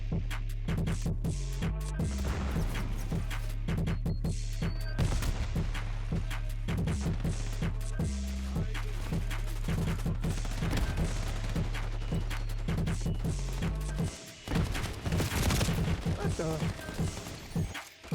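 Rapid gunfire during a Black Ops 6 multiplayer match, dense bursts of shots and impacts over a pulsing game soundtrack, continuing almost without pause.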